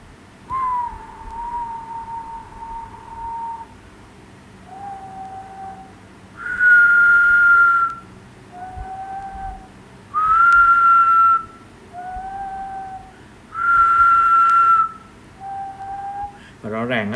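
A person whistles two alternating pitches, a lower and a higher tone, in clear sustained notes of about a second each, repeated several times in a steady back-and-forth pattern close to the listener.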